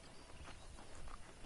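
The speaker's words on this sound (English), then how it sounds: "let's see if you can still ride a horse" Horse hooves clip-clop at a steady walking pace in the Red Dead Redemption video game, soft and fairly quiet over a low background hum.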